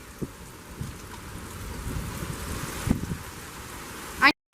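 Steady rain hisses through a gusty thunderstorm with deep thunder rumbling underneath and a few sharper gusts; a brief voice rises near the end before the sound cuts out.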